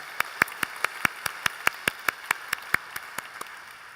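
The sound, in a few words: congregation applause in church service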